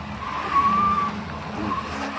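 A Cadillac XTS sedan's tires skid and squeal as it strains up a steep off-road slope, a steady harsh tire hiss with engine noise running through the whole short stretch.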